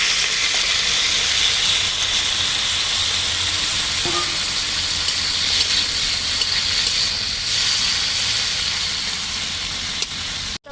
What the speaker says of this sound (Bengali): তো আমি চিংড়ি মাছগুলোকে ভেজে নিচ্ছি।